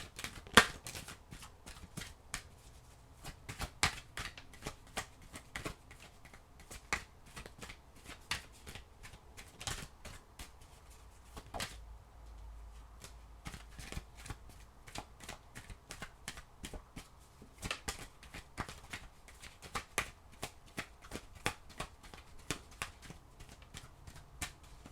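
Tarot cards are shuffled by hand in a quiet room, a long run of crisp, rapid riffling snaps and soft slaps repeating closely throughout, with no talking.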